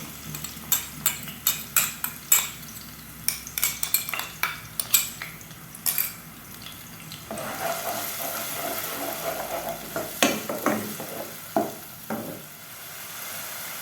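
Onion paste from a medium onion added to hot oil for a shahi chicken kurma: a run of sharp spoon-on-pot clinks and taps gives way to a broad frying sizzle, with further scattered scrapes and knocks over it.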